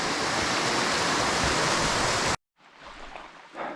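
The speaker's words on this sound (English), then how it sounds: "how do I get up above this waterfall?" A waterfall on a small wild trout stream roars as a loud, steady broadband rush, then cuts off abruptly to quieter flowing water and faint ambient noise.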